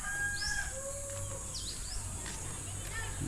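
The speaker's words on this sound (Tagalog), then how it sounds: "naririnig yung mga huni ng ibon ganito sa probinsya" Several birds chirp and whistle briefly in the countryside of Samar, Philippines, against a steady outdoor hum, with a low rumble underneath; calls are scattered and fairly faint.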